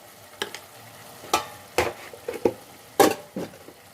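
A spoon stirs chilli, black pepper, coriander and garam masala powders into a sizzling paneer, potato and pea gravy, giving about eight sharp scraping strokes in an uneven rhythm over a soft frying hiss, close and fairly quiet.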